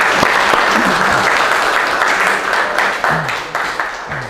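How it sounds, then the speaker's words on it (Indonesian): A group of students in a classroom breaks into loud, dense applause, many hands clapping at once close by, with a few voices calling out beneath the clapping as it gradually tapers off. "Ya, beri tepuk tangan untuk kita semua."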